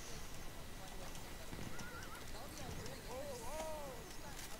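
A horse neighs on the Suez map in the Battlefield 1 video game, its whinny rising and falling over dense battle noise and hoof clatter, moderately loud in the mix.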